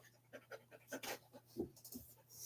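A dog pants in quick, soft breaths close by, the short rhythmic puffs fairly quiet with small whimpering noises mixed in.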